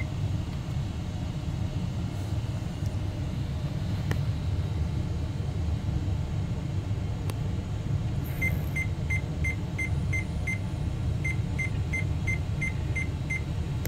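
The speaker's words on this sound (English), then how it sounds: "we got seven short beeps" A 486 computer's BIOS beep code, seven short, high electronic beeps in two quick groups, faint over a steady low hum and rumble.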